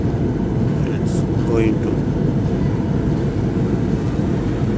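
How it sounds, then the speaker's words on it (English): An Air India airplane on approach to land at Mangalore airport, with a loud, steady cabin engine roar throughout and a voice speaking briefly over it. "Aeroplane ready to land."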